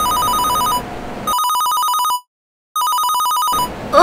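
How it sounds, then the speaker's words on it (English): A telephone rings loudly indoors at home in repeated electronic bursts, broken by a short silent gap before the ringing resumes, with no voices. "Ugh, I can't stand the phone. It always has to ring whenever I'm in the middle of an important discussion with my mom."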